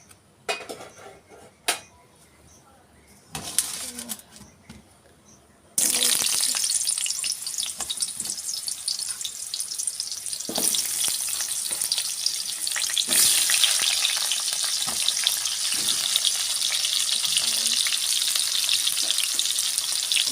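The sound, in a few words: frying potato and chicken in oil in a kadai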